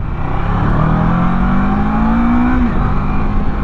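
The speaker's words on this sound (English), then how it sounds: "You can probably hear the engine sound underneath me. the exhaust note underneath me." Motorcycle engine and exhaust drone at roughly 50 mph, heard from the rider's position with strong wind rush, a steady loud hum that rises slightly in pitch before settling, with no talking.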